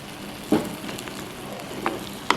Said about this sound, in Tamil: இது நல்லா ஒரு கொதிக்கட்டும்.